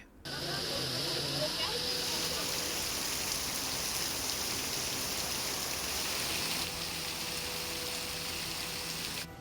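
Steady heavy monsoon rain pours down in the Malnad hills of Chikkamagaluru, Karnataka, in a dense, continuous hiss with a faint low murmur running beneath it.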